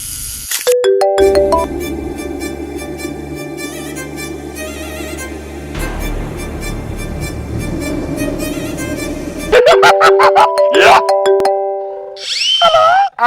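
An electronic ringtone melody rings loudly, shifts to a droning tone midway, then chimes again in bright repeated notes.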